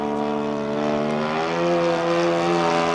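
A Seagull Spacewalker 1.20 RC airplane's engine drones at full throttle, a steady loud buzzing tone holding nearly constant pitch with no voices.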